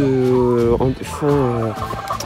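Domestic chickens in a backyard henhouse give repeated, close clucking calls with tonal, harmonic cries, mostly alone and fairly loud, with a couple of short breaks.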